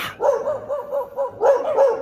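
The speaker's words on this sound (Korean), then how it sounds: "개 짖는 소리 좀 안 나게 해라" Dogs barking at houses in a rural Laos village, a few bursts of repeated barks close by with short gaps between them.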